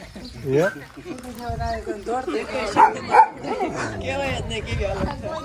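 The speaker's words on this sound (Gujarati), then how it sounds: "સરસ મસાના પ્યારા પ્યારા ક્યુટ ક્યુટ ડોગ છે સમજો." Dogs at a farm bark and yip, sharp yelps and whimpering cries mixed in with people talking and laughing nearby.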